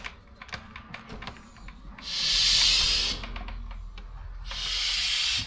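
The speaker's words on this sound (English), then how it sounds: "We got the extractor set to extract. It's locked in place. There's a couple pumps. It should suck it out." Oil extractor pump drawing engine oil out of an Audi RS5, two loud hissing, sucking surges over low background rumble and faint clicks.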